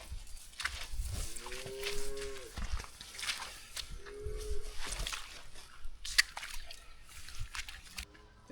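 Cattle and calves mooing on a farm near a fence, several drawn-out moos at moderate distance over outdoor rustling and footsteps.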